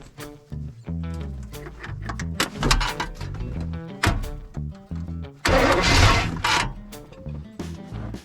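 A plow truck's engine is cranked by its starter motor through jumped terminals in single-digit cold, giving a rhythmic, repetitive cranking whir over several seconds, with a louder, rougher burst near the end.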